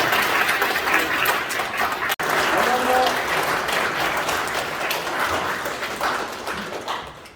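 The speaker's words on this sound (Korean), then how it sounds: "박수로 환영해 주시기 바랍니다." Sustained applause from an audience welcoming a guest at a tenth-anniversary academic conference, a steady dense clapping that fills the whole stretch with one brief break near the middle.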